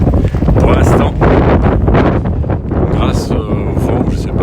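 Wind buffeting a microphone outdoors on a warm, overcast day along the Camino de Santiago between Burgos and Hornillos del Camino, a loud, steady rumbling gust noise that runs through the whole stretch.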